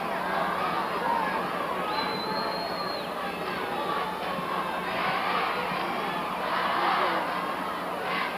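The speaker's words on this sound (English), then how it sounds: "Crowd coming alive here at the Civic Arena" A packed Civic Arena crowd roars and cheers during a 1970–71 Pennsylvania state championship high school basketball game, a loud, sustained wall of shouting with surges and a whistle blast.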